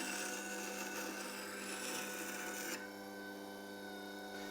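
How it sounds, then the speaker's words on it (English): A carving gouge ground against the wheel of a Record Power WG250B grinder held in a short tool jig: a steady, close, harsh abrasive grinding that stays dense throughout and eases slightly in tone partway through. "this is taking a consistent grind from the edge of that bevel"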